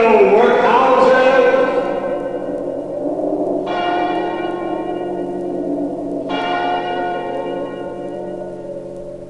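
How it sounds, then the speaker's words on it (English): A church bell strikes with deep resonant clangs, each stroke ringing out and slowly decaying, spaced a few seconds apart, with a storyteller's voice heard over the start. "The bell struck 12."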